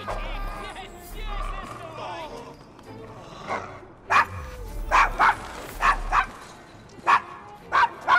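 A dog in the video game Assassin's Creed Syndicate barks in a series of sharp, loud yips. The barks come in quick pairs and singles over the last few seconds, after a stretch of quieter speech and background murmur.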